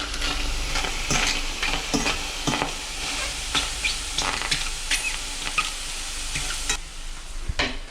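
Vegetables frying in a pan for a vegan dish make a steady close sizzle, with frequent sharp clacks and scrapes of a utensil stirring throughout and no speech.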